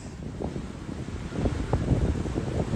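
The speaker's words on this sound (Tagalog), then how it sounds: "Grabe yung hangin, napakalakas." Strong wind blusters at Dolomite Beach, with steady rumbling microphone buffeting and gusts that swell louder toward the end.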